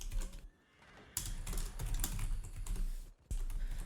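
Computer keyboard keys clatter in quick irregular bursts during a ranked Heroes of the Storm match, close and fairly quiet, with brief pauses between flurries of typing.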